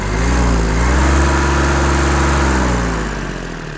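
A Japanese Kubota A-195 mini tractor engine roars steadily close by. Its pitch climbs as the revs rise, holds for a moment, then eases back down.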